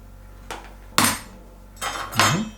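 A cooked lobster's knuckle shell cracked open by hand, with a few sharp close cracks and snaps in quick succession, the strongest near the middle.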